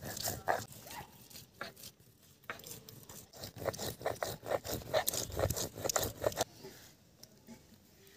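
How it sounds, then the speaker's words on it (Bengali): Cumin is ground on a grinding stone with repeated rhythmic rubbing scrapes, a quick series of close, gritty back-and-forth strokes that pause briefly before continuing. "এখন আমি মশলাগুলো বেটে নেব। জিরেটা বেটে নেব।"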